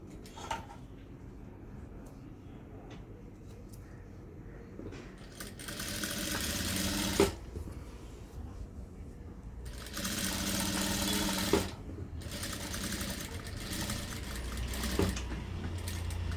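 A sewing machine stitches churidar fabric in several short, fairly quiet bursts separated by pauses, with light handling clatter between runs.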